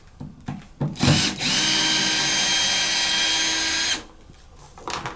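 A power drill whirs loudly for about three seconds straight, taking screws out of a hard sink enclosure, with brief clicks and handling noises before and after the run.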